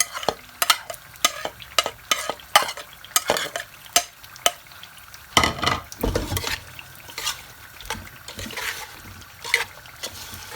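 Chana chaat with chaat masala stirred and mixed in a bowl or pan, a steady run of scraping spoon clatters with faint sizzle-like rustle, close and moderately loud with no talking.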